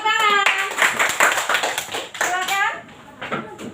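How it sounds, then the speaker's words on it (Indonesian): Sixth-grade children in an elementary school classroom clap in a rhythmic, patterned group clap, loud and close, with a teacher's voice and children talking between the claps. "Kasih tepuk tangan."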